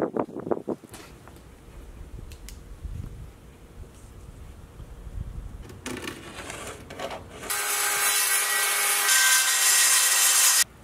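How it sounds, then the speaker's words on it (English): Plywood is cut for the floor of a homemade bike trailer, with scraping, rubbing and tool handling noises followed by a loud, steady power saw whine for the last few seconds. "I'm going to cut the floor out of this piece of plywood here."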